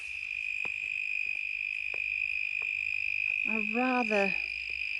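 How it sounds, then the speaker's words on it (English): Crickets hold a steady, high chirp in a scrappy garden, with sparse clicks beneath and a brief spoken voice near the end. "Crickets galore."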